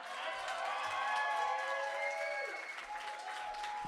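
Sustained audience applause fills a poetry slam venue, dense and steady with some whoops and cheering woven through, holding at a fairly even level before easing slightly near the end.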